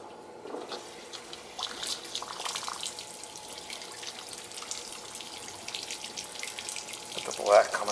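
Dirty water purging from a cut pipe and splashing onto a floor, a low steady trickle and patter with a louder gush near the end, heard faintly alone.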